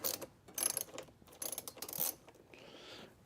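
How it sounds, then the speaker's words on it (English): A ratchet bolting something down under the driver seat of a Ford Transit van, bursts of rapid clicking in several short runs, close by, with a brief metallic whine at the end. "So let's go ahead and bolt this down."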